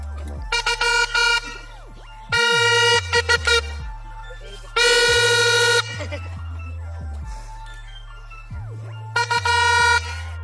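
A homemade jugaad horn fitted in place of the bell on a child's bicycle blares in loud, piercing, melodic blasts, repeated in several bursts with short gaps between them.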